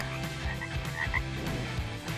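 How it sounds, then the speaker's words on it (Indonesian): A dense chorus of tree frogs croaking together, with steady, overlapping rhythmic croaks filling the whole stretch at an even, close loudness. "Katak pohon membuat pemangsanya bingung dengan cara menggauk serempak bersama-sama"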